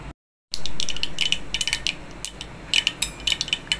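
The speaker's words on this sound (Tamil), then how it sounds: "கடுகு வந்து நல்லா வந்து பொரிஞ்சிடுச்சு." Mustard seeds splutter and pop in hot oil while a tempering is cooked, with a steady frying hiss under scattered sharp crackles that come in small clusters.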